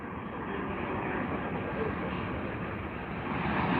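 A United Airlines airliner at London Heathrow produces a continuous, broad engine roar, steady and moderately loud, heard from a distance and swelling slightly toward the end, with no voices.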